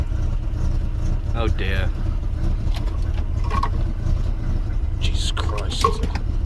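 A Volvo 240 engine with a broken, leaking fuel system idles roughly, a steady low drone that lasts throughout while someone speaks briefly over it.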